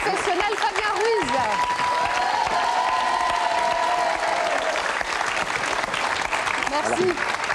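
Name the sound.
applause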